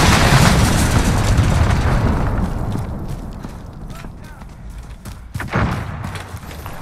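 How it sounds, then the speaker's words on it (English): A cruise missile strike in Call of Duty: Modern Warfare lands as a heavy, rumbling explosion that starts loud and slowly decays, with a second sharper blast near the end; faint voices may sit under the roar. "Allied cruise missile away."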